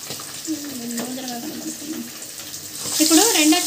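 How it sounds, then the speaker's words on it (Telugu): Fish pieces seasoned with turmeric, salt and chili sizzle steadily in hot oil, a continuous close hiss and crackle that swells louder near the end, with a voice speaking briefly over it. "ఇప్పుడు నూనె బాగా కాగాక చేప ముక్కను వేసాము"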